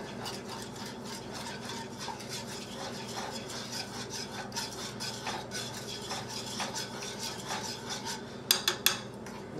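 A spoon works through a meat loaf mixture in a bowl, giving continuous wet rubbing and scraping strokes at close range, ending in a few sharp clinks against the bowl.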